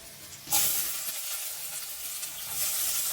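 Onions dropped into a hot, dry kadai burst into a loud sizzle, a sudden surge of hissing frying that continues steadily after the first moment, with no talking.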